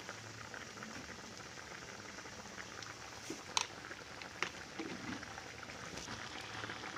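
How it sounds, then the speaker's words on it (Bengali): Fish simmering in a little water with turmeric in a pan, a faint, steady bubbling with a couple of soft taps partway through. "সামান্য পরিমাণ জল দিতে হবে যাতে মাছগুলো সেদ্ধ হয়।"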